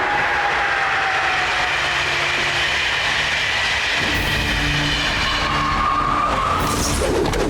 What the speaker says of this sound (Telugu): మోటు అలా చూడు, అతను ట్రైన్ లో పైకి వెళ్తున్నాడు